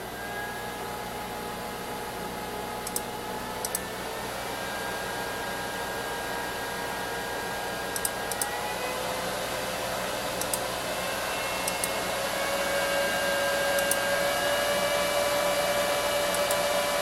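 An IBM M52 desktop computer runs at maximum speed, its fans producing a loud, steady whirring drone with whining tones that shift in pitch and grow slightly louder, along with occasional faint clicks.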